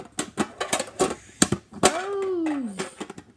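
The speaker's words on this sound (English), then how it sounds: "I just throw the cards in." Trading cards from Pokémon packs are tossed into a box, giving a quick series of light clattering taps in an irregular rhythm, followed by a voice making a drawn-out sliding sound at the end.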